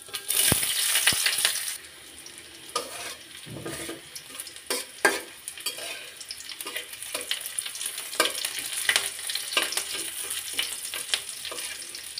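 Chopped onions and cumin seeds fry in oil for a potato bhaji, giving a steady crackling sizzle with occasional clinks and stirring scrapes, loud at first and then softer, with no talk.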